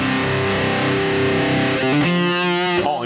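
Heavily distorted electric guitar, a Carvin CT6 with high-output Fishman Fluence Modern pickups in drop C, runs through a Laney Ironheart amp plugin, playing loud sustained low chords that shift to a brighter ringing chord near the end, with no talking.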